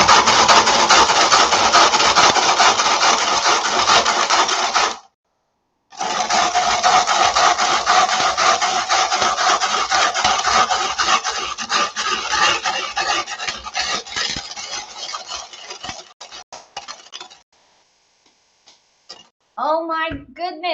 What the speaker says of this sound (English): we're going to try and grind this hard piece of bread and see whether we can make some breadcrumbs.